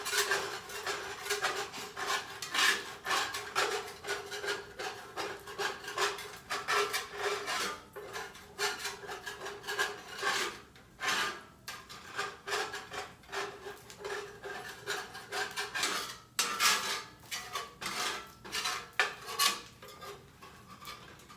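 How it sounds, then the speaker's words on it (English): A utensil scrapes and rubs across a pan bottom in a home kitchen while butter cooks, repeated rasping strokes in uneven bursts, close and fairly loud, with brief pauses between passes. "Let me just scrape my pan up a little bit."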